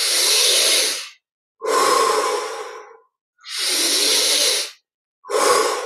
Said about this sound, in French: Prenons beaucoup d'air pendant ces respirations